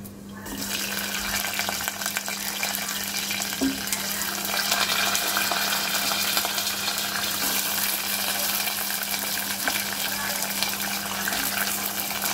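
Mustard seeds and moong dal fry in hot oil with a steady, close sizzling hiss that runs unbroken throughout, over a low constant hum.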